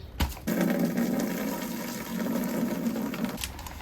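Water pours steadily into a bucket before tile grout is mixed, a continuous rushing splash with a short break partway through, close and moderately loud with no talking.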